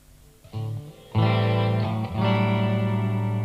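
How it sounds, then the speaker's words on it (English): Distorted electric guitar chords ring out with a wash of reverb, a few short strums followed by sustained, echoing notes. "I'm just going to change that delay to a reverb."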